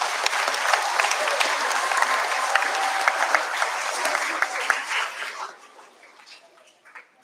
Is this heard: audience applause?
yes